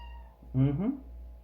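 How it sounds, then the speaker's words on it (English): A pet cat gives a single short, close meow for attention, clear and fairly loud against a quiet room. "My kitty cat wants attention."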